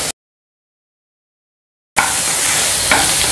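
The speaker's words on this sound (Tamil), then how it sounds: "இப்போது உருளைக்கிழங்கு போட்டுடுங்க. உருளைக்கிழங்கும் சேர்ந்து ஒரு நிமிஷம் பிரட்டிக்கோங்க." Potato pieces stirred and sizzling in a hot pan over high flame for a cauliflower, potato and capsicum sabji, a steady close frying hiss that starts abruptly after a short silence.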